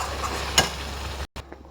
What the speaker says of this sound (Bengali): তা মশলা এখানে কষছে, এবার আমি মাংসটা দিয়ে দেবো কষানোর জন্য।